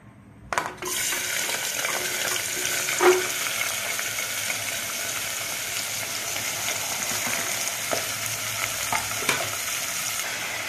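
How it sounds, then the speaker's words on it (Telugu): Chopped onion and green chillies hit hot oil in a cooker with a sharp burst, then settle into a steady, close sizzle with occasional stirring clinks, no voices. "ఇందులో కట్ చేసుకున్న ఉల్లిపాయ పచ్చిమిరపకాయ వేసుకుందాం."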